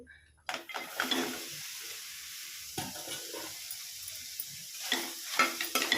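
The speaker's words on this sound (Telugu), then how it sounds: "సన్నగా కట్ చేసుకున్న తర్వాత కొద్దిసేపు ఫ్రై చేసుకోవాలి" Sliced bitter gourd frying in a pan, a steady soft sizzle with occasional stirring scrapes and utensil clinks against the pan, close and moderately quiet, no talking.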